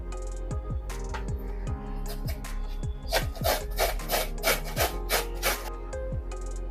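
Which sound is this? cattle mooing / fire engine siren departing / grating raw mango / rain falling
grating raw mango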